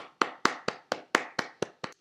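One person clapping, eight sharp, evenly spaced claps in quick succession, close and clear with nothing else heard.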